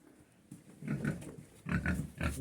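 A pig grunts and snorts up close in a few short, low bursts, fairly quiet.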